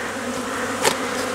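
Honeybees buzz around their hive on a February cleansing flight, a dense steady drone of many insects with one bee passing close partway through.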